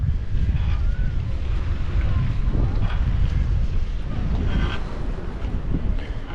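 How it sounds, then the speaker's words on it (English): Strong wind by Lake Memphremagog in Magog, Quebec, buffets the microphone in a constant loud roar with gusty swells throughout, with faint voices beneath. "Pretty windy."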